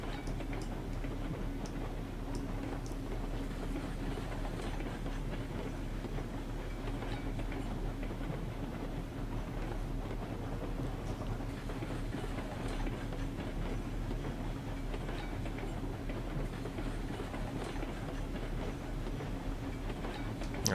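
Steam locomotive in Railroads Online hauling six freight cars of beams and lumber plus a caboose toward an iron mine, a steady rumbling roll with faint ticking rail clicks throughout, close and unbroken.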